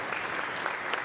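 A church congregation at a Presbyterian worship service claps together in steady, dense applause, a continuous wash of many hands throughout the short burst with no voices on top.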